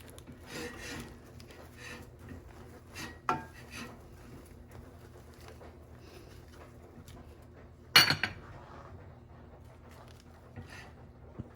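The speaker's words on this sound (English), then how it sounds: "Going to stir." A spoon stirs a pot of Christmas treat mixture with soft, intermittent scrapes and knocks against the sides. Two sharper clinks stand out, one near the middle and a louder one later, and no one speaks.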